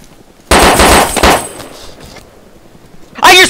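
Loud burst of automatic gunfire in the video game DayZ Mod Overpoch, several rapid shots fired close by, then quieter ambient noise before another sharp burst starts at the end.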